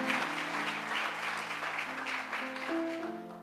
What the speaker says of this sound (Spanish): ¿Alguien pone un aplauso al Señor?